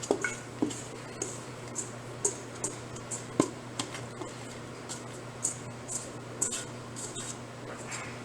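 Sticky sourdough pizza dough is scooped off the sides of a bowl, soft squishy pulls and small taps recurring at close range, fairly quiet over a faint steady hum.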